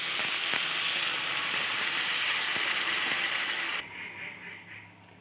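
Water poured onto masala and potatoes frying in a pan for a tengra fish curry: a loud, hissing sizzle that holds steady, then drops abruptly and fades into a softer bubbling hiss.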